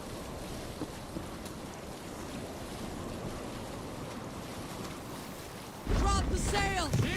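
Sailing ship crossing ocean waves in the Assassin's Creed Valhalla video game: a steady wash of wind and water, then louder splashing surf with a brief tonal cry near the end.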